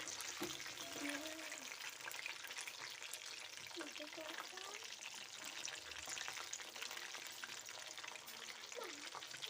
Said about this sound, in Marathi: आता आपण असे सगळे तळून घेऊया